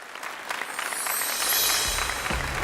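An audience applauding to welcome the first woman entrepreneur guest on a stage show, a sustained wash of clapping that builds and stays even, moderately loud, with no talk over it.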